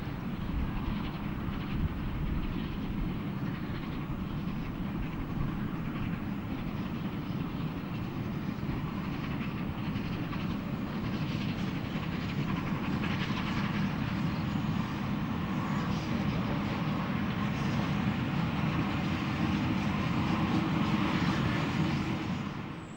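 Steam locomotive Taw Valley hauls the Orient Express train gently through the suburbs under a speed restriction, giving a steady, continuous rolling rumble that stays at an even level throughout with no voices.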